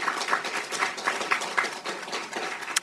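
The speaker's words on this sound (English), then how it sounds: "Can we give another round of applause to our..." An audience at an education symposium applauds, a soft, steady patter of many hands clapping that stays fairly faint and continuous throughout.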